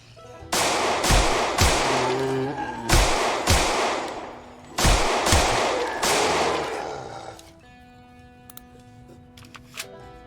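Gunfire in the zombie survival game Project Zomboid: a series of sharp, loud shots in quick bursts of two or three with short pauses between, fading into a quieter tail with faint clicks.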